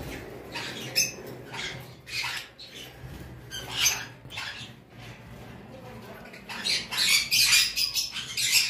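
A caged pair of white finches gives short, sharp, squeaky calls in irregular bursts, some overlapping and growing busier toward the end, close and fairly loud.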